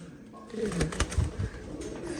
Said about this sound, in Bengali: এক পেয়ার টপ ক্লাস কোয়ালিটির জ্যাকোবিন আছে